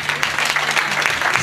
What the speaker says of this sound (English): Everybody clap your hands and praise the Lord.